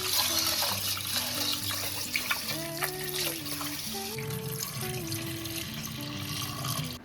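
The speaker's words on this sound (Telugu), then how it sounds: "రైస్ కడుక్కున్నాము కండి" Rice being washed by hand in water in a vessel, steady splashing and swishing sloshes running continuously at close range with background music playing throughout.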